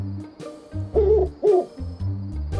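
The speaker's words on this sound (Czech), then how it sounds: "jenom sova" An animated owl hoots in a cartoon with little cars, several clear low hoots standing out in a dark night scene with soft background music, and no talking.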